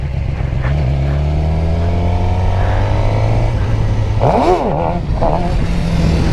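A stock Suzuki GSXR 600 sport bike during wheelie practice, its engine loud and close, revving up in a rising whine before a sharp throttle blip and drop back to a steady drone.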